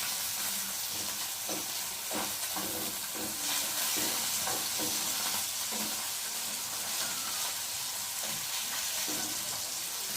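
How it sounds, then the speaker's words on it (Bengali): Fish sizzles loudly in hot oil in a pan, a dense continuous crackle and hiss with small spattering pops throughout, close and unbroken, with no voices. "এবং মাছগুলো ভাজা হয়ে গেছে আমি একে একে তুলে নেব"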